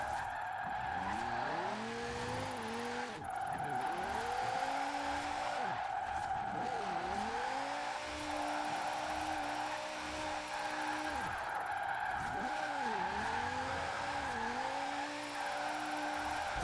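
Car drifting on snow in Forza Horizon 4, engine revving up and down in repeated swings with tire skids, steady and close with game music beneath.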